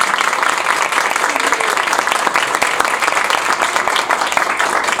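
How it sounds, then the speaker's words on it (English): Dense, sustained clapping from a graduation audience, loud and close, a continuous crackle of many hands with no break and no talk over it. "So really a super round of applause."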